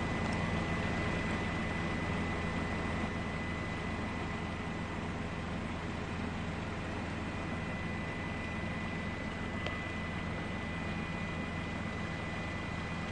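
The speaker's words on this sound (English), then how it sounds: "you can see the thrust that those huge jet engines are generating there" Boeing 787 Dreamliner jet engines on the takeoff roll of its first flight: a steady, broad roar heard from a distance, holding even throughout with no voices.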